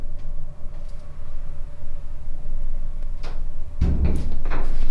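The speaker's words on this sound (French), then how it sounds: "on n'aurait pas dit une porte qui se ferme?" A door in a video game closes with a single heavy thud near the end, after a few soft knocks and clicks over a low ambient hum.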